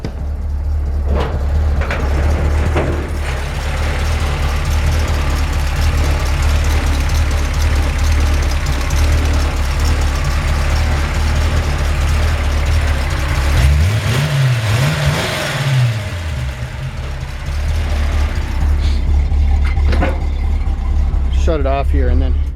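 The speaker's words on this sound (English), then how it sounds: "the engine sounds awesome" A 1954 Chevrolet 3100 rat rod style pickup with its exhaust routed underneath idles with a loud, steady rumble, then revs up and down once briefly midway before settling back to idle.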